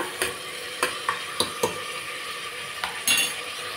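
Vegetables and masala frying in oil in a pan: a low sizzle with a few close spatula scrapes and clinks at irregular intervals, and no talking.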